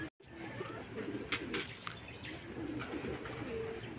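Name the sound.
pigeons cooing at a loft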